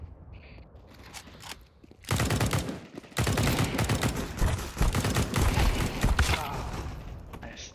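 Rapid bursts of gunfire from the video game Counter-Strike 2, loud and dense, with a short pause before an extended stretch of repeated shots and clatter.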